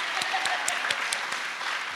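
An audience at a heritage month community event claps together, a dense, steady patter of many hands with a few sharper claps rhythmically standing out, continuing for a couple of seconds without talk.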